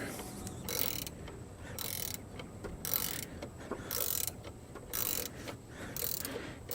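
Hand tools work a GM AC compressor clutch pulley off an HT6 compressor on a GMC or Chevy OBS truck, giving a close, mechanical ratcheting with regular bursts of clicking roughly every second, alone without talk.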